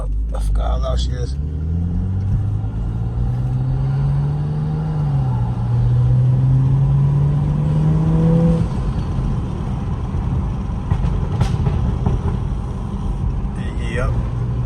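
A BMW F30 335i engine revs loudly in sport mode and holds a rising, droning pitch, then settles into a steady rumble with brief talk-like sounds near the start.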